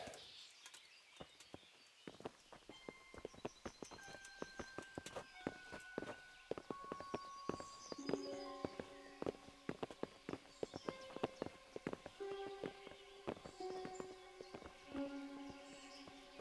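Horse hooves clip-clop steadily on the ground in the medieval game Kingdom Come: Deliverance, a continuous walking rhythm of distinct hoof strikes with tonal music in the background.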